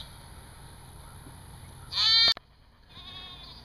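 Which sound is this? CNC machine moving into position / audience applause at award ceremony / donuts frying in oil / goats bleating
goats bleating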